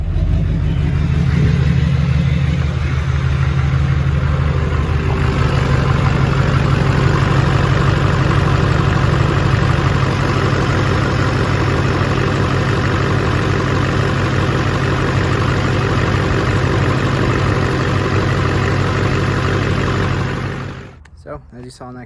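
A high-mileage LBZ Duramax diesel in a single-cab pickup truck starts up and settles into a loud, steady idle close by, the chugging rumble holding constant before cutting off abruptly near the end.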